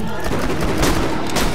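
Enemy gunfire in Borderlands 2, a dense, continuous clatter of rapid shots filling the whole moment at close range and steady loudness, with no pause between bursts.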